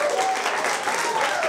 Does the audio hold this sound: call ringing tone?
no